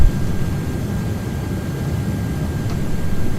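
Delta Airbus A330-300 airliner taking off from Atlanta in Microsoft Flight Simulator 2024, a loud, steady broadband engine roar filling the whole moment without voices.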